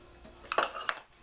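Chopped pecans tumble into a bowl in a short series of light clattering knocks and rattles, close and fairly quiet, with no talking.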